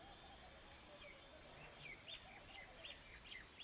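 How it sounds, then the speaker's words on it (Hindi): Birds perched in the surrounding trees chirp and tweet in short bright bursts, several faint calls repeating at a distance over a quiet outdoor background. "कई सारी चिड़ियाएं बैठी हुई हैं"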